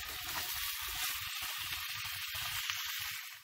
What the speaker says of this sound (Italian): Lo giriamo un pochettino per farlo rosolare da ambo i lati